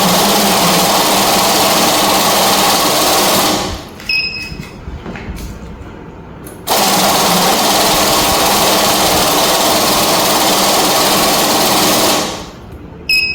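A BND MC 989 banknote counting machine runs with a steady, dense whirring rattle. It stops abruptly for a few seconds, starts again at full level and then cuts out near the end.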